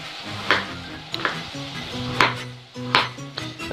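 Carrots and onion halved with a knife on a board while braising veal in a sour cream and walnut sauce, several sharp chopping knocks at irregular intervals over a soft kitchen sizzle, with clinking pan sounds.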